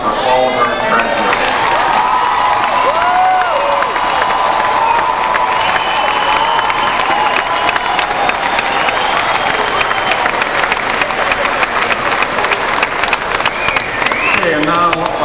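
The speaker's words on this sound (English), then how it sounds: "we'd like to have one last round of applause for all of our graduates" University graduates receive a final round of applause at a closing ceremony, with steady crowd clapping, cheers and whoops filling the hall loudly and continuously throughout.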